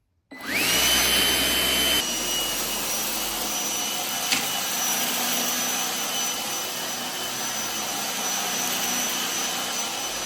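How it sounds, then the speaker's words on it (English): A Gtech AirRam 3 cordless vacuum cleaner switches on with a rising whine, then runs loudly and steadily on carpet with a sustained high motor tone and airy roar, its pitch dropping slightly after a couple of seconds. "To start cleaning, push the cleaner head down with your foot and you switch it on right over here."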